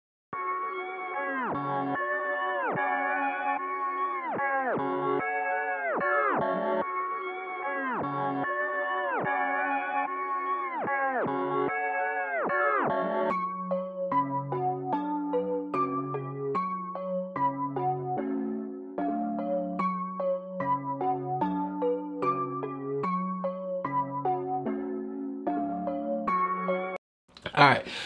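A looping trap beat plays on its own: a bright, meowing synth melody first, then a bouncier plucked pattern with punchy drums, steady and fairly loud throughout.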